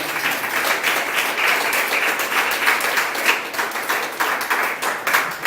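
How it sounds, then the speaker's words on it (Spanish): A church congregation breaks into loud, sustained applause, dense rapid clapping from many hands filling the room throughout, with no clear speech over it. "dale fuerte aplauso a Cristo Jesús"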